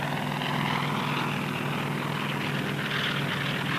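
A 1960s rescue helicopter fitted with pontoons flies overhead, its engine and rotor making a steady, loud drone that holds evenly throughout with no talk.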